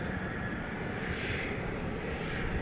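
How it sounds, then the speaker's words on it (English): British Airways Airbus A380 jet airliner at DFW Airport at night, a steady broad engine roar with a faint high whine, constant and moderately distant, no voices. "following right behind it is the delayed British Airways Flight 192 to London Heathrow, the A380"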